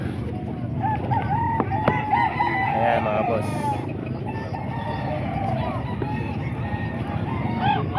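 Roosters crowing in a backyard flock of native chickens in Calumpit, with several drawn-out crows and clucks at mid distance while someone talks over them.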